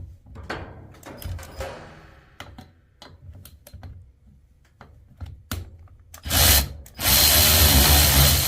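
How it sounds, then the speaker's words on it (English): Cordless drill with a 14mm socket driving a bolt on a garage door torsion spring assembly, close clicks and taps first, then two loud bursts of whirring motor, the second held for over a second. "Or you can just use a cordless drive with a 14mm socket."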